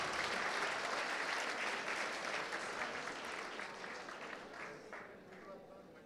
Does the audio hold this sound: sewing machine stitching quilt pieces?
no